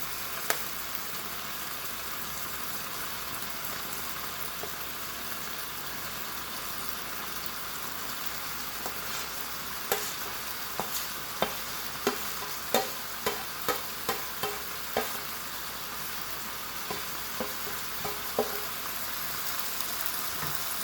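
Vegetables and meat sizzle steadily in a hot pan, a soft continuous frying hiss with a run of sharp scraping and tapping stirs in the middle, heard alone without talk.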